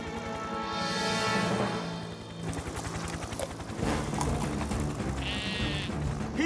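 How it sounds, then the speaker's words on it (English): A sheep bleats loudly in a long wavering call, followed by further rough bleats over a busy background. "What are you doing, little sheep?"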